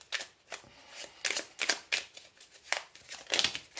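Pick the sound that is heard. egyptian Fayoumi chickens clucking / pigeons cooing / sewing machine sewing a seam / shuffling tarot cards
shuffling tarot cards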